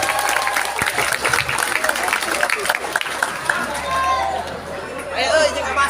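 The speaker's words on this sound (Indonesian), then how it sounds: "Tepuk tangan dulu buat si Ujang." Crowd applause at an Islamic New Year gathering, steady clapping mixed with chatter and murmuring voices throughout.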